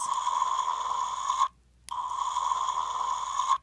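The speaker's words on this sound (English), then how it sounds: "Now that's supposed to be a growl." A Bratzillaz doll's toy pet makes an electronic growl, a buzzy droning tone that plays twice with a brief silent gap between, sounding more like a snore than a growl.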